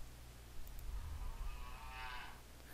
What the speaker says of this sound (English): Okay, so the cow plays sound.